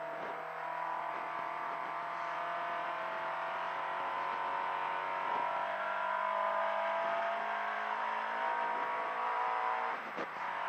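A car driving along a twisting lakeside road, its engine a steady muffled drone from inside the cabin, with the pitch rising and falling as gears change at regular points.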